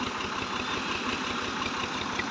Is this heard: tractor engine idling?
yes